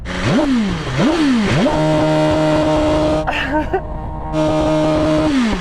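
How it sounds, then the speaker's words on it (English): A BMW M1000 RR sport motorcycle engine revs hard several times in quick succession, then settles into a steady high idle with a sharp blip near the end, loud and close. "What are you revving up to then, when you're revving it, blipping it?"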